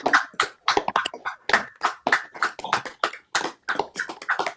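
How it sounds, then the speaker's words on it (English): Participants on a video call clap together, producing a patchy, compressed burst of overlapping handclaps from several people that carries on steadily for a few seconds. "let's have a round of applause"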